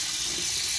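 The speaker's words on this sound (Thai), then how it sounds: "พ่อก็สอนเทคนิคการล้างเห็ด" Freshly picked puffball mushrooms being rinsed in water, giving a steady, close splashing and running-water wash with no pauses and no voices.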